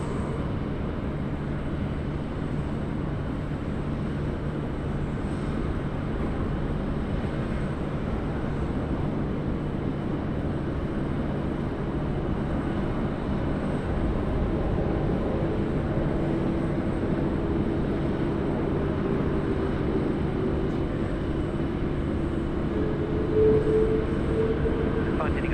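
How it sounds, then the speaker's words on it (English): A Philippine Airlines Airbus A330-300 arriving at Sydney Airport on runway 16 right, heard as a steady distant roar of jet engines that holds through the whole stretch, with faint talk underneath. "Philippine Airlines 211 Manila to Sydney 330-300. Let's get this one right. Finals runway 16 right."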